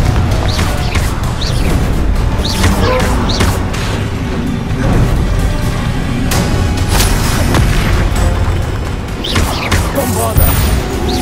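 Loud, near-continuous fire-spell blasts and booming impacts from Confringo casting in the Hogwarts Legacy video game, layered with dense combat effects and a voice talking throughout.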